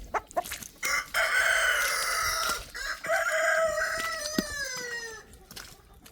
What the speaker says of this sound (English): He just now learned to crow, I think.